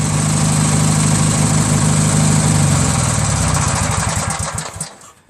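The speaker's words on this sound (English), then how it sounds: "the engine idling like this at low idle" Briggs & Stratton opposed-twin engine on a Craftsman DYT4000 lawn tractor, idling low with a steady loud drone and mechanical rattle, close up, then winding down and fading out near the end.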